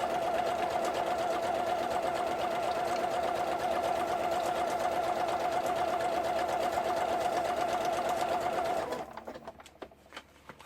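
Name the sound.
sewing machine stitching a zigzag seam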